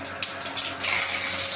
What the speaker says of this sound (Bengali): এবার আমরা দিচ্ছি জিরে ফোড়ন।